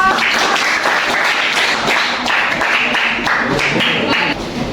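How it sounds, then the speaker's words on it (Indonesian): Steady clapping from a class of students applauding a group, a dense, even patter of many hands that holds for several seconds and then tapers slightly at the end. "Tepuk tangan untuk kelompok."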